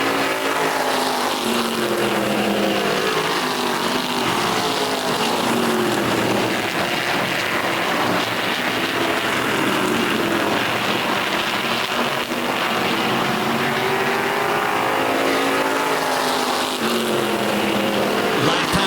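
Race cars running laps around a track with two leaders separated by about a car length: a continuous dense roar of engines with shifting pitch sweeps as cars pass, loud and unbroken, with no speech.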